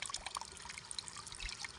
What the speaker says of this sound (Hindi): ये धान की नर्सरी में पानी आ चुका है